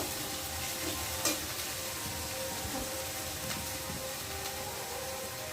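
Spice masala fried with salt and turmeric for a tilapia fish curry makes a steady, close sizzle with stirring scrapes and one sharp clack of the spatula.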